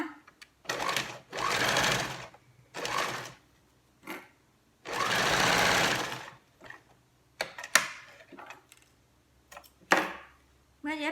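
A sewing machine stitches the front facing of a spaghetti-strap blouse in several short, loud bursts separated by pauses, with brief handling noises between runs.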